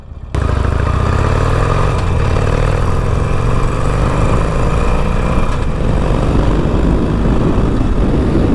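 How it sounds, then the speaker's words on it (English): A Harley-Davidson Evo motorcycle engine on a Roadster accelerates with a loud, close, continuous roar that climbs steadily in pitch throughout. "I love the sound of a Harley Evo motor accelerating."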